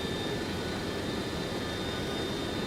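A Boeing 727 freighter in Flight Simulator 2024 climbs out of Memphis toward Miami, its jet engines producing a steady, dense broadband roar with a faint high whine, unbroken and without voices.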